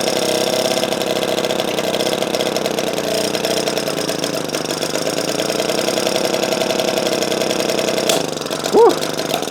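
A vintage Velo Solex 1700 moped engine running on old fuel, a steady buzzing putter close by with a fast even beat, briefly dipping near the end.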